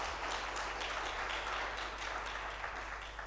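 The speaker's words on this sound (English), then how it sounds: "Please give them a big round of applause" Applause from the audience at a breakfast panel event, a steady, moderately faint wash of clapping that holds evenly throughout without voices.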